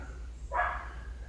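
A single faint dog bark from outdoors, distant and brief, over a steady low background hum.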